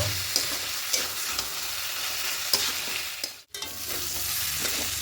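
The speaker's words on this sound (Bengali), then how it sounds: "চাল আর ডাল দিয়ে খুব ভালো করে মিশিয়ে দিয়ে একটু কষিয়ে নেব" Washed rice and lentils being stirred and sautéed in a pot for khichuri, a steady sizzle broken by light scrapes and a brief pause, close and unaccompanied by speech.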